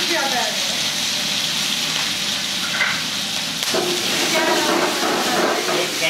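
Capsicum, onion and tomato frying in a kadai for kadai chicken, giving a steady loud sizzle and hiss of oil, with occasional stirring scrapes and a faint voice underneath.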